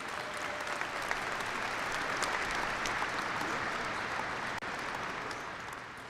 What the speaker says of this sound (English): Graduates, why don't you give all these people a nice round of applause for all the support that they provided you.